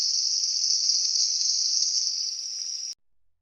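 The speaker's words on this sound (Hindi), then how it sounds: "ये मैंने प्याज को घी में डाल लिया और इसे अब हल्का हल्का ब्राउन कर लूँगी अच्छे तरीके से घी में।" Sliced onions frying in hot ghee in a pan give a steady, close, even sizzle that holds without break for about three seconds before cutting off abruptly.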